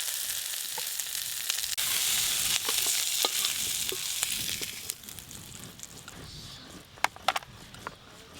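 Prawns fry in mustard oil in a pan with a steady, close sizzle, broken by occasional sharp stirring clicks and scrapes, with no one talking.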